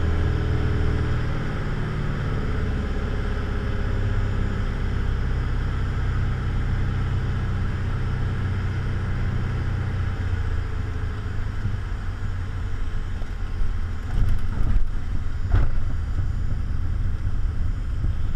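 A Piper Arrow II on landing in a gusty crosswind, heard from the cockpit as a loud, steady engine drone with wind rush, easing off toward the end with a few thuds of touchdown.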